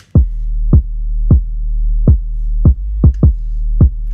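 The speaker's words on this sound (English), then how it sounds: "too slow you can really hear the side chain effect" A deep sustained bass tone pumps rhythmically, ducking sharply with each of about eight punchy kick hits, giving a steady throbbing pulse.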